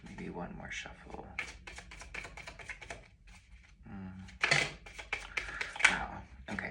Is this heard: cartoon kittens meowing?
no